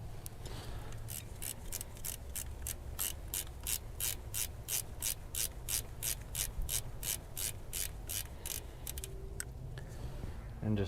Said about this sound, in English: We're going to back these nuts off and tap it out